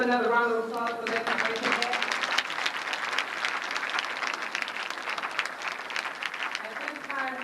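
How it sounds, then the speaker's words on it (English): A university auditorium audience at a 1992 Dr. King tribute breaks into a crowd-wide round of applause, thick and sustained. A brief voice or musical note fades out at the start as the clapping takes over. "Let's give another round of applause for that."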